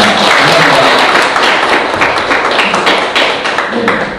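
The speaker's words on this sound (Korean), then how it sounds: "다시 한번 큰 박수를 부탁드립니다" Loud, dense applause from a seminar audience fills the room steadily, a wash of many hands clapping at once with no single claps standing out.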